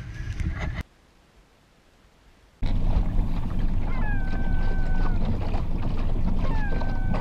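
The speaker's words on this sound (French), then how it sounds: "nous embarquons dans un petit bateau à moteur, à coque plate, pour nous déplacer facilement dans la lagune de l'île Barter" Small flat-hulled motorboat moving across the Barter Island lagoon: a loud, steady engine rumble with wind noise, briefly dropping out near the start before resuming at full strength.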